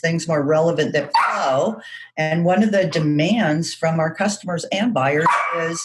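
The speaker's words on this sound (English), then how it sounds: "I apologize for my barking dog." A pet dog barks in the background while a person speaks steadily in the foreground; the barks sit under continuous talk throughout.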